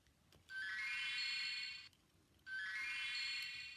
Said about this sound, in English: I'm going to find my bell